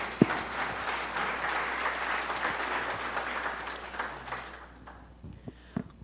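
A church congregation applauds during a sermon, with sustained dense clapping for several seconds that thins out toward the end, leaving a few scattered claps.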